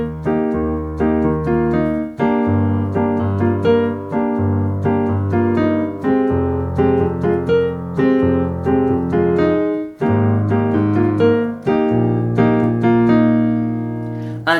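Solo piano plays the looping chord pattern of a song, full sustained chords with a moving bass line, changing every couple of seconds, clear and alone.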